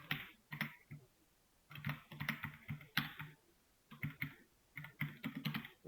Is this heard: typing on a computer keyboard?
yes